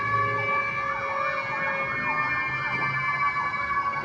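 Police siren wailing steadily with a rising and falling sweep at moderate distance, a vehicle passing on the road, with a low traffic rumble and no talking.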